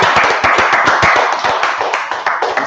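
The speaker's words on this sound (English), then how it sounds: "let's clap it up" A class claps hands together at close range, giving a loud, busy patter of many overlapping claps in quick, uneven rhythm that stays steady for a few seconds.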